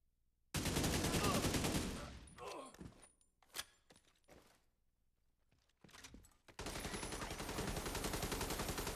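Automatic gunfire from The Division 2 video game comes in a loud sustained burst at the start, then scattered shots and impacts, then another long rattling burst near the end.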